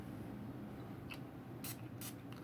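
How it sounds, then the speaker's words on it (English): A few short hissing bursts of a Cartier Roadster perfume spray nozzle, two of them stronger, over a quiet low hum. "let's show you the spray"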